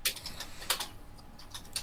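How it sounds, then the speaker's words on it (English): Fast, light clicks of typing on a keyboard, scattered in short bursts at a quiet level with no voices. "somebody is typing"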